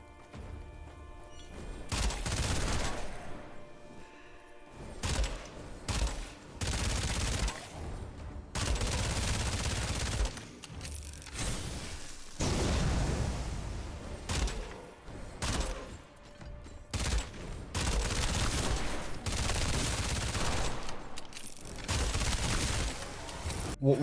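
Repeated bursts of gunfire from the Fatum weapon in the video game Witchfire come as loud, close rapid volleys separated by brief pauses, with booming impacts between them.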